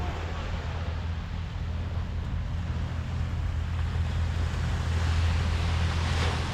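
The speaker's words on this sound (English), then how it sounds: "Let's look at the ocean one more time." Ocean surf at a beach by a house rolls in as a steady, broad roar with wind noise on the microphone, continuous and loud throughout.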